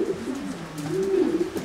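Pigeons kept in widowhood racing style coo in a steady, rolling run of low, throaty calls that swell slightly toward the end, fairly close with no voices.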